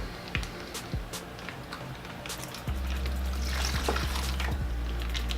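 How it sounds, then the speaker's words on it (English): Water and fish are poured from a bag into a container through a net, first in a few splashy drips and trickles, then a steady, louder gush of pouring liquid that runs on close by. "You want to sort of pour the water kind of fast so you don't get any fish stuck in the bag there."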